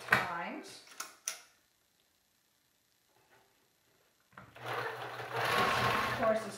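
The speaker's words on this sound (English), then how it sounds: "I'm going to fold this now and stitch it with a 1/4 inch seam" A sewing machine stitches a quarter-inch fabric seam for self-fabric face mask sliders, whirring steadily near the end after a brief voice and a quiet pause.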